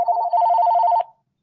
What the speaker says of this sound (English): Somebody's ringing somebody.